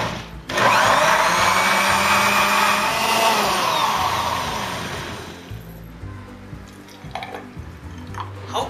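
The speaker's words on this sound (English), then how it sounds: "Now I'm going to give it a whiz until everything is well dissolved." A blender whizzes a Nutella and banana shake: it starts abruptly, runs loud and steady for about five seconds, then winds down and stops, leaving faint clinks and drips.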